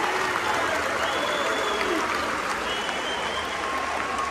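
Football fans cheer inside Rapid's new two-tier stadium in Romania, a steady, dense crowd roar with scattered applause that holds at the same level throughout, with a few voices standing out now and then.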